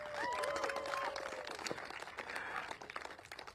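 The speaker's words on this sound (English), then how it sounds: "give Marcus and his team from Jurong East Bukit Batok another round of applause." Crowd applause at an outdoor political election rally, scattered clapping and cheering with a whistling tone early on, fairly faint and distant, tapering off toward the end.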